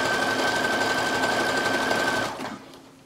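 A sewing machine stitches picot elastic onto delicate lingerie fabric in a fast, continuous, loud whir close by, then stops near the end and fades to quiet.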